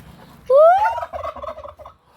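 A young turkey on a small poultry farm lets out one loud, close gobble, a rising squawk that breaks into a quick warbling rattle and then stops.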